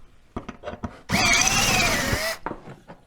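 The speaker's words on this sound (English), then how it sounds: "Drill these out too." Power drill boring out bolt holes in the metal wall of a Harbor Freight style blasting cabinet, one loud sustained whine lasting about a second, with light clicks and handling knocks before and after.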